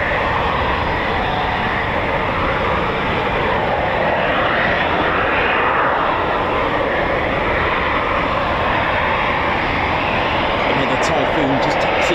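Eurofighter Typhoon FGR4 jet taxiing out for departure at RAF Coningsby, a loud continuous engine roar and rushing hiss holding steady throughout.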